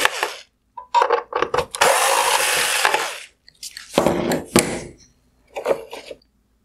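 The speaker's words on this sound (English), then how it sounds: "Next, I'm going to remove the two T20 screws holding on the inner projector mount." Power screwdriver backing out T20 screws from a 2016-2019 GMC Sierra full LED headlight: short bursts of whirring, one sustained run, then a few brief buzzes, close and fairly loud, with no talking.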